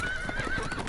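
A horse in Telltale's Game of Thrones whinnies loudly and close, a sustained neigh over steady hoof clatter and busy background noise.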